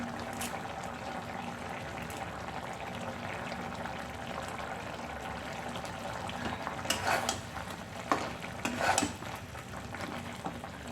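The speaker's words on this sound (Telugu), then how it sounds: "ఇలా దగ్గరకు వచ్చే వరకు ఫ్రై చేసుకోవాలి" Chicken curry with slit green chilies and curry leaves fries in a pan with a low continuous sizzle and occasional louder utensil scrapes and clinks.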